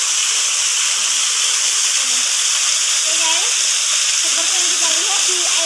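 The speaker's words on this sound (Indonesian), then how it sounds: "Air terjun." Continuous hissing rush of the Nanga-Nanga waterfall, loud and unbroken, with faint warbling bird calls threading through the second half.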